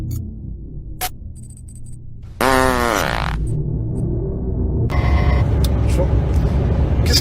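A loud, rough truck engine rumbles continuously, joined by a grinding, wavering mechanical whine and some rattling clicks, close by.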